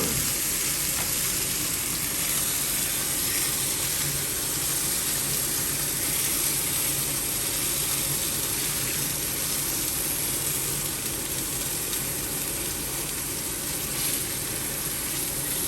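Steak cubes sear in a hot pan, giving a loud, dense, unbroken sizzle that holds steady and close throughout with no talk over it.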